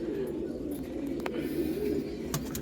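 A pair of long-distance racer pigeons coo softly and steadily up close, a low repeated rolling murmur with faint background noise.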